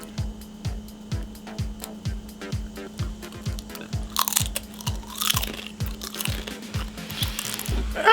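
Hot Doritos chips crunched during a blindfolded food taste test, a rapid series of sharp, close crunches in a steady chewing rhythm, loud and crisp with no talking.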